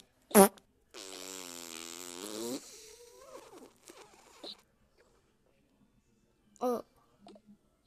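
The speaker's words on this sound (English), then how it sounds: "Wait, I didn't even fart. But you did, but I don't smell anything. Wait. It's a whoopee cushion!" Whoopee cushion let off indoors when someone sits on it, giving one drawn-out buzzing fart lasting about a second and a half, with short voices and squeaks around it.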